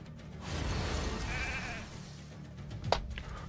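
A sheep bleats in the Raid Shadow Legends video game, a short wavering cry over a low background hum, followed by a brief sharp sound near the end, all fairly faint.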